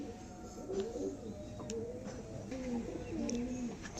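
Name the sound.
white pigeons cooing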